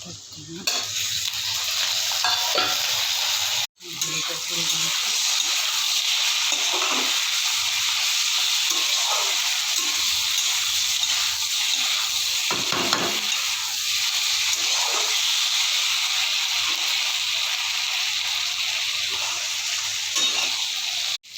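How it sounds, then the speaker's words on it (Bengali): Ginger, garlic and turmeric powder fry in a pan with a loud, continuous sizzle close up, accompanied by scraping stirs and a brief break near the start. "যে বন্ধুরা আদা রসুন হলুদ গুঁড়ো দিয়ে ভেজে নিচ্ছি"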